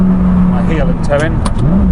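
A Lamborghini Gallardo's engine blips and revs sharply during a heel-and-toe downshift on a road drive, close and loud under the driver's talking.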